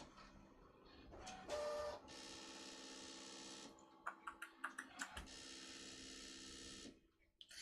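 A Brother ScanNCut machine cuts card with a steady mechanical whir and hum, broken by motor shifts and a run of short clicking taps midway. It sounds close and quiet, with no voices.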